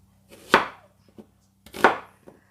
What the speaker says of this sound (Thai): จะหั่นหัวหอมก่อนนะคะ